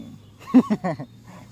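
A booming, roaring cannon attack effect in a mobile demon-battle game: a short growling roar with several pulsing bursts in the middle, moderately loud, fading into faint background game sound.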